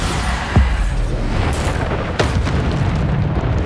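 Bombarda spell explosions from Hogwarts Legacy on PS5, two sharp blasts a couple of seconds apart, heavy and booming over a steady din of combat.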